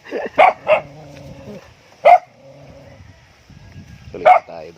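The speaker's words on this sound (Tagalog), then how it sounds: "Dito yung asong napakalambing." A dog nearby gives a few sharp, high barks and yips in short bursts with pauses between them. A low murmur of indoor background sound runs underneath.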